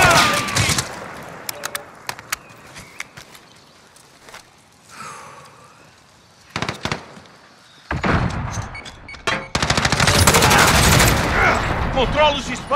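Bursts of gunfire in Call of Duty: Modern Warfare, Kill Confirmed mode, erupt in sporadic volleys, building to a loud, sustained barrage near the end, with quieter stretches of shuffling and muffled noise between.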